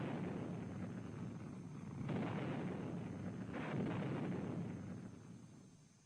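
A Little John free-flight surface-to-surface rocket with solid propellant fires, producing a distant, rumbling roar that swells in two broad surges and then fades away. No one speaks.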